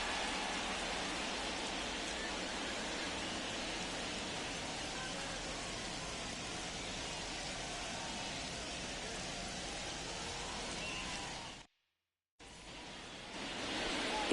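Steady, dense rain pours over the ballpark in the baseball video game MLB The Show 24, a constant broadband patter that drops out briefly to silence near the end before resuming.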